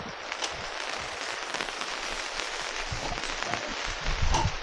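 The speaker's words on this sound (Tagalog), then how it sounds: "Paparito na ang ulan." Rain beginning to fall outdoors, a steady hiss of drops pattering on surfaces with a few sharper ticks near the end, light to moderate in level.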